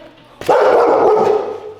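A single loud, close dog bark that trails into a short whine-like tail.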